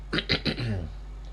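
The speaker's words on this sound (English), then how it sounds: "And now I cough" A few quick, harsh coughs close to the microphone, three or four bursts in a row ending in a low throaty rasp.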